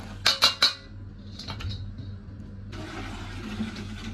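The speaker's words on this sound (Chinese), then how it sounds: "放到冷水盆里洗上两遍" Large stewing bones are washed in a basin of cold water: a few sharp clinks at the start, then sloshing and running water that grows steadier toward the end.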